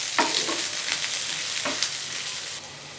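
Roughly chopped onions sizzling and frying in a pan for a dhaba-style green peas masala, a steady broadband hiss with a couple of brief stirring scrapes, close and moderately loud, no talking.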